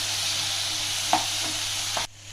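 Chopped carrots, beans and peas sautéing in a pan for veg kurma, a steady close sizzle with a few scraping stirs of a spoon before the sound cuts off abruptly.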